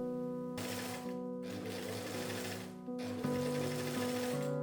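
A sewing machine stitching French seams on the sleeves of a winter cape, running in close, steady mechanical bursts with short pauses between them and no talk.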